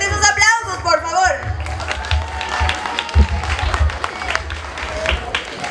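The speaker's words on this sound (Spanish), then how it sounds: "¡Fuertes los aplausos, por favor!" An audience at a singing performance applauds for Ángel Aguirre, with scattered claps and cheering mixed with crowd noise, a loud voice calling out near the start and low thumps underneath.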